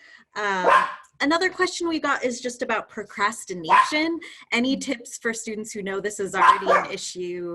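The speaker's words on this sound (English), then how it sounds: "sorry if you hear dogs barking in the background." Two small dogs bark intermittently in the background beneath continuous close speech from a person talking throughout.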